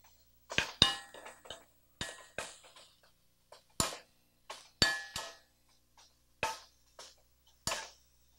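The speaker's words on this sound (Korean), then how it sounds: "이거 볶는 거좀 야채수로 볶겠습니다" Vegetables being stir-fried in vegetable broth in a pan give a string of crisp, separate clinks and taps from the utensil against the pan, close and spaced irregularly with quiet gaps between them and no talking.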